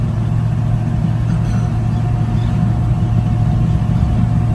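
A 1964 Chevy C10 big window shortbox pickup cruising at 45 to 50 mph, with a steady low engine and road rumble that stays even and continuous throughout, no voices.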